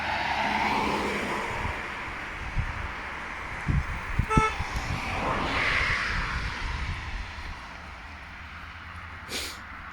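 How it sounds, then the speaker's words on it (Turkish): Cars pass along a road beside a park and cornfield near Fühlinger See lake, with low broadband road noise, a short horn toot midway and a swelling pass around the middle, heard at moderate distance. "Arabalar geçsin."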